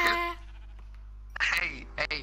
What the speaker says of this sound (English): Hey, why are you killing those sheep, man?